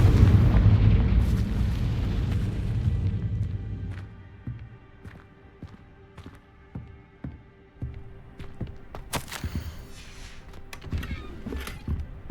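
A Confringo fire spell in Hogwarts Legacy bursts with a loud rumbling explosion that fades away, followed by scattered sharp pops and clicks from the game.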